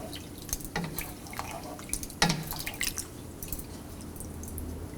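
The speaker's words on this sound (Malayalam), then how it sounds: "കപ്പ ഇതുപോലെ വെള്ളത്തിൽ മുങ്ങിക്കിടക്കത്തക്ക വിധത്തിൽ ആവശ്യത്തിന് വെള്ളം ഒഴിച്ചു കൊടുക്കണം" Water poured into a pot of tapioca pieces for kappa biriyani, irregular splashes and drips close by, with a few louder spills over quiet background and no talking.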